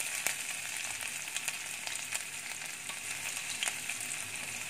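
Ginger and garlic fry in a pan of hot oil with chilli and cumin while cooking methi aloo, giving a steady, fairly soft sizzle with a few faint clicks and no voices.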